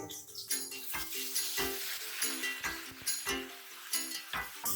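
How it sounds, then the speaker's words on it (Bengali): Spice paste sizzles in hot mustard oil in a wok for a Bengali egg curry. A steady close crackle runs throughout, with repeated stirring scrapes and light metal clinks every half second or so, and no talking. "তেলটা গরম হয়ে গেছে, মশলার পেস্টটা এখন আমি কড়াইতে দিব।"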